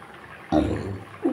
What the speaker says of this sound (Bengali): এখন দিয়ে দিচ্ছি মাছগুলো।